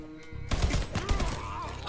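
Gunfire from the Mafia 3 video game breaks in after a quiet start, with rapid overlapping shots and sharp bursts that are loud and close, plus faint game sounds underneath.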